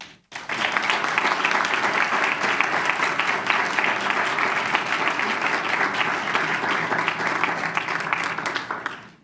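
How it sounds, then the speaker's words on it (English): Dense, sustained audience applause at a school board meeting for a President's Award recipient, loud and steady for the whole stretch. "please give a big round of applause to our President's Award recipient, David Davila."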